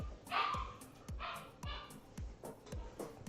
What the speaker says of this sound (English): You can hear Luna barking.